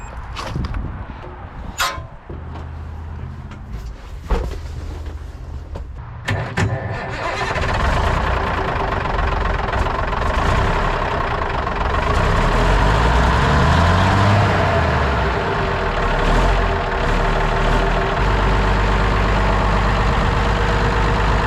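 Wrecker truck engine cranking with a few sharp clicks and starter bursts, then catching and settling into a steady, loud close idle with a brief rev swell midway.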